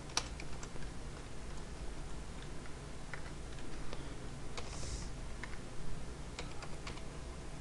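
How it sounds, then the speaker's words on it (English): Soft, quick clicks of typing on a computer keyboard, irregular taps over a faint background hiss, fairly quiet throughout. "I could start typing in the names of the people."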